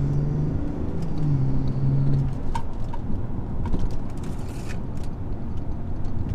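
A BMW M240i rolls onto the Donington Park circuit, its engine a low rumbling drone with a brief rising tone early on, plus scattered clicks and faint birdsong in the background, no speech.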